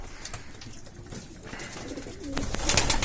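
Soft pigeon coos sound close by amid a busy background of bird noise and rustling, growing a little louder toward the end.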